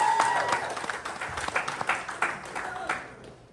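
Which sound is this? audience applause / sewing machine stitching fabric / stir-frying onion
audience applause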